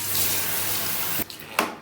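Steady stream of tap water running into a sink while dye is rinsed from hair, with a couple of brief splashes and hand movements near the end.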